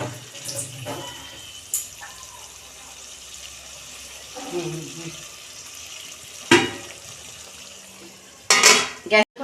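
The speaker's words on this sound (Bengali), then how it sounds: "এই যে অল্প আমি পরিমাণ মতো জল দিচ্ছি বেশি জল দেবো না" Water is poured into a cooking pan of bitter gourd with green tomato, mustard and poppy seed, a brief splash and trickle set among sharp clinks and clatters of metal utensils against the pan, close and fairly loud.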